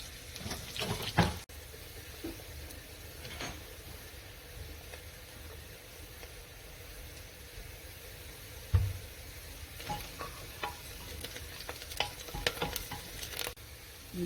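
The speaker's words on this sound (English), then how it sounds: "When the oil is hot, add the chopped onions to the pan. Fry in oil for 3 to 4 minutes" Chopped onions frying in hot oil in a pan for lamb curry, a steady close sizzle running throughout, punctuated by occasional stirring scrapes and a few louder knocks of a utensil against the pan.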